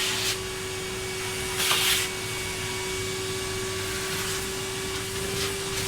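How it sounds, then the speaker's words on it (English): A vacuum cleaner runs with a steady, loud motor whine during hoovering, with bursts of louder suction and rubbing as the nozzle moves across the floor. "I think I'm the only YouTuber that live streams hoovering"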